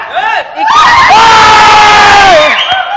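A studio audience at a Telugu TV show erupts in loud, sustained shouting and cheering for about two seconds after a brief lone voice, with the roar cutting off sharply at the end.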